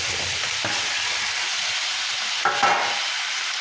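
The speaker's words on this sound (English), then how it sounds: "I want to stir in my tofu." Tofu stirred into a shimmering sauce over high heat sizzles steadily in the pan, with a brief scrape or clatter from the stirring near the end and no talking.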